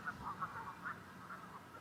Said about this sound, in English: Geese everywhere over there.